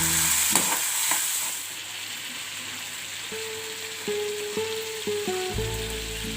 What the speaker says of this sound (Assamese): আৰু সেই তেলখিনিতে সেই মছলাখিনিতে মই হালধিকণো দি দিম, আৰু ধুনীয়াকৈ লৰাই থাকিম।